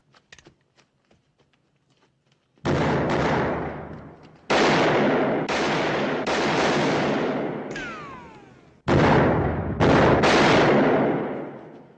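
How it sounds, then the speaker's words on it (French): Gunfight in a western film on Blu-ray: loud, sustained bursts of gunfire and blasts roll in from about 2.6 seconds, broken by brief gaps, with a few faint ticks before. "Vous aurez le droit également à une grande scène de fusillade là-dessus."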